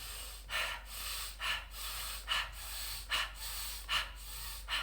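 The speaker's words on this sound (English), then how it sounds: "When we are anxious, generally speaking, we have longer inhale and a shorter exhale" Anxious breathing through the nose, a steady rhythm of longer inhales and shorter exhales repeating about six times, close and soft, with no talking.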